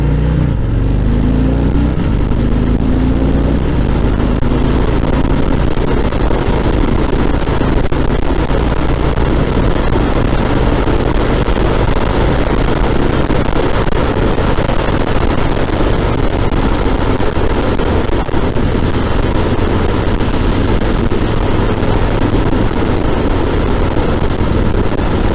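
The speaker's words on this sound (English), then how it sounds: "Does not take long for this bike to get moving." A 2018 Harley-Davidson Fat Boy 114 motorcycle accelerating, its engine a steady loud rumble with a rising pitch early on, sustained and close throughout.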